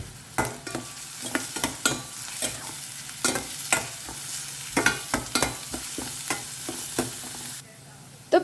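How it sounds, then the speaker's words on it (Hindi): Garlic, green chillies and onion fry in a pan over a low flame for a cassia tora leaf bhaji: a soft, continuous sizzle broken by repeated sharp spatula scrapes and clicks, close by and without speech. "अब इसे ना 1-2 मिनट के लिए भून लेते हैं।"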